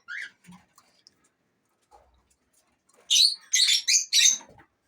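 Pet canaries and cockatiels chirp in a home bird room, a few faint isolated peeps followed by a cluster of loud, close, high whistling calls in quick succession.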